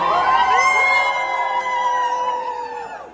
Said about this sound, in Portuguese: Já estão gritando ali.